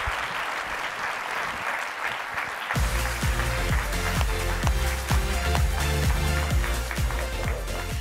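Audience applause at an engineering awards ceremony: steady, dense clapping from a large crowd, loud and sustained throughout, swelling and continuing without talk.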